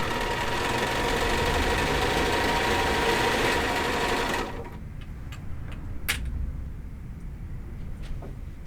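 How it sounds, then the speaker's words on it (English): A sewing machine runs fast and loud in a steady whir while stitching a ruffled pillowcase, then stops about halfway, leaving a quiet room with a few soft clicks and knocks. "So now I can sew faster."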